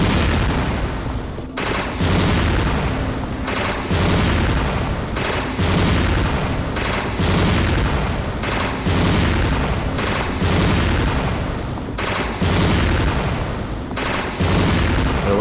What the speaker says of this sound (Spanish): Voy a seguir metiendo tiros.